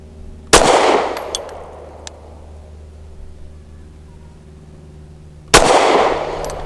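Two loud, sharp gunshots from a Springfield Armory HS Produkt Echelon pistol ring out about five seconds apart, each followed by a short decaying echo, with faint clinks between them.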